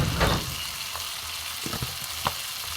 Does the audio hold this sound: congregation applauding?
no